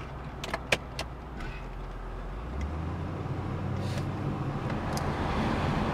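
A 1978 Chevrolet Corvette Pace Car edition with about 3000 original miles pulls away on a drive in Florida. A steady low engine and road rumble builds gradually, with a few light clicks and clunks early on.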